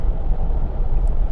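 Continuous low rumble of a car on the road, even and droning throughout with no one speaking.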